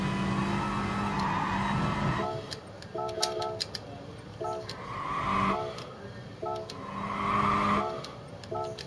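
A GR4 race car at Autopolis in a racing video game, its engine held in fourth gear and rising and falling as the throttle goes on and off, with tire squeal and blips over a steady mid-range drone.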